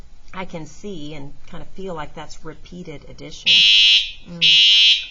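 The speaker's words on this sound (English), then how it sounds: "They're working on our fire alarm, sorry." A person speaks calmly, then a loud, piercing electronic fire alarm under repair blares in two long bursts, drowning out the room.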